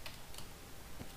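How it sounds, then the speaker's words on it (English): Computer keyboard typing during a Minecraft parkour map session, a few faint quick key clicks over a steady background hiss, close but quiet. "don't know if you hear my keyboard"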